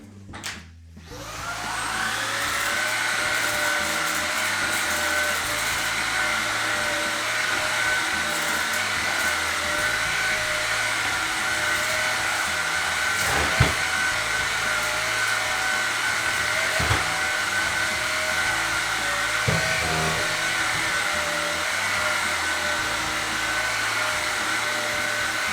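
A Shark IZ251UKT cordless vacuum whirs steadily at close range on carpet for the whole stretch, a smooth motor drone with a few faint bumps and clicks along the way.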